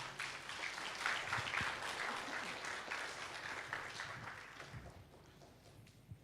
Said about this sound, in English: please give a round of applause to all the